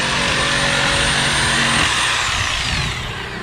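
A Sawzall reciprocating saw cuts beneath a Dodge Diplomat with a 318 engine, giving a loud, harsh, continuous buzzing rasp that holds steady and then eases slightly near the end, with no talking.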